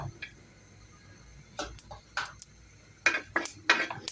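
Half a teaspoon of whole cumin seeds is stirred in a pan with a utensil. Sparse scraping clinks at first grow into denser bursts of metallic scrapes and taps, close and fairly quiet.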